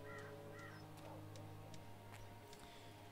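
A talking crow caws a few times in the video game Dreamfall Chapters, over a steady humming background drone, with faint scattered sounds mixed in.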